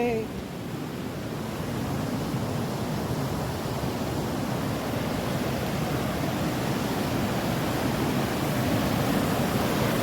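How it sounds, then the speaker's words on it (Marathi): Fast-flowing river water roars in a loud, steady rush that never lets up. "किती जोरात पाण्याचा प्रवाह चालू आहे"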